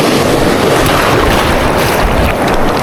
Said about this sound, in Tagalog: Ang lakas ng hangin. Alon pala.